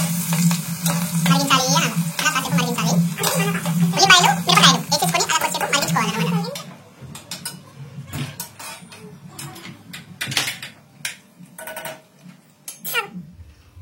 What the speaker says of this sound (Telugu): ఉల్లిగడ్డలు, పచ్చిమిరకాయలు వేసుకొని కొంచెం వేంపుకుందాం